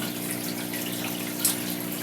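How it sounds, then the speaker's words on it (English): Water pouring steadily into a container set inside a saltwater aquarium during tank maintenance, a continuous close rushing and gurgling hiss with a brief splash near the end, no voices. "I'm going to just put this in here for now and let it fill up with water"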